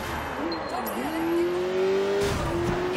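Car engine in Sleeping Dogs, a steady rising drone as the car accelerates, with a tire squeal and road noise near the end, loud and close.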